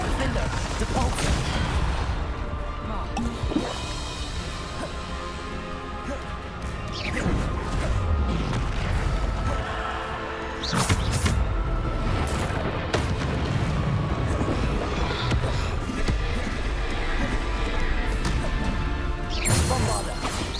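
Bombarda explosion spells cast in Hogwarts Legacy, a series of loud smashing, crashing impacts spread through a busy combat mix, with several sharp blasts standing out over continuous battle noise and spoken spell incantations.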